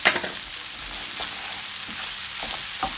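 Continuous bright sizzling as a tablespoon of butter melts into a crayfish rundown sauce in a hot pan, with soft stirring scrapes and a brief clink at the start.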